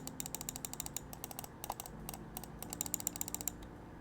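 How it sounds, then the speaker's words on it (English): A Pulsar pro gaming mouse with blue switches and a pink shell is held close to a microphone, its buttons giving a quick series of crisp, sharp clicks in uneven bursts, with no talking. "This is like one of my favorite mouse clicks. So let me just hold it up to the mic here."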